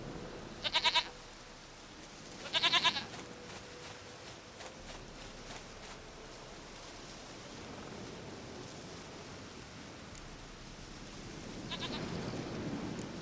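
Two short bleats from a goat in the video game The Witcher 3 come early, moderately loud over a steady hiss of ambient noise, then only the background hiss and a low swell remain.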